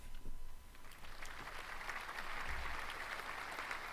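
A small smattering of applause at a school date auction, faint and thin, a few scattered hands clapping steadily for a few seconds.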